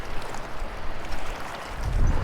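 Wind gusts by a lake buffet the microphone on a mountain bike ride, a steady rushing roar that swells toward the end, loud and close with no speech.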